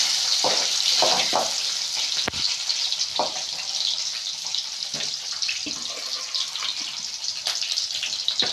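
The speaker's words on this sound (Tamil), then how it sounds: "வெங்காயத்தை நல்லா வதக்கி விட்டுக்கலாம்." Sambar onions (shallots) sauté in a pan with chana dal and urad dal, giving a steady bright sizzle broken by a few clacking stirs.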